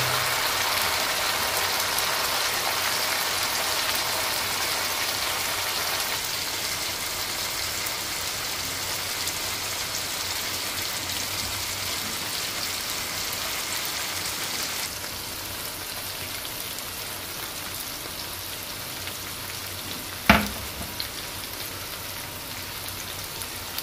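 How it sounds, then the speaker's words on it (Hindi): Two small roughly chopped tomatoes frying in a pan for anda khagina, an egg dish, a continuous hissing sizzle that eases slightly midway, with one sharp knock near the end and nobody speaking. "टमाटर 1 से 2 मिनट तकरीबन हो गए हैं इनको फ्राई करते हुए"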